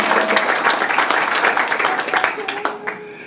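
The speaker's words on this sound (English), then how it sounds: "you can clap for Butcher Brown" Audience at the New Morning club in Paris applauds the 23-year-old drummer of Butcher Brown during a Christian Scott Septet jazz show, loud dense clapping that slowly thins, with a voice talking over it.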